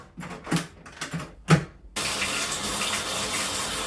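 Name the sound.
hot water running from a bathtub tap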